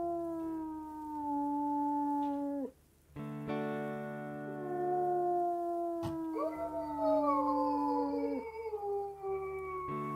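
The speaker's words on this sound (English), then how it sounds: "Love listening to her howl." A wolf in the video game WolfQuest howls in long, sustained, wavering tones, one howl breaking off and another rising and bending in pitch, loud and close with no talk over it.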